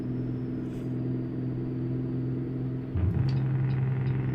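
Semi truck engine in American Truck Simulator, a steady low diesel rumble with strong harmonics that drops briefly near the end and settles at a slightly higher, louder drone, with no talking.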